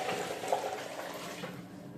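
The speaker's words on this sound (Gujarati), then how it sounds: "સાથે આપણે પાણી પણ નાખવાનું છે." Water poured into a pot of tempered dal produces a short, continuous splashing gush, close by and moderately loud, with no voices.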